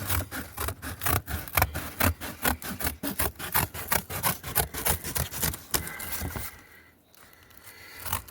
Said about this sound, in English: we're just gonna cut some strips out